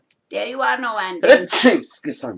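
A single sharp sneeze bursts out amid a person's conversational talk about old Mayo memories, close and loud, with speech continuing just before and after it.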